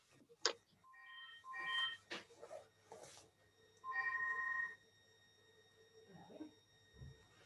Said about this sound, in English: There's a phone ringing in the next room.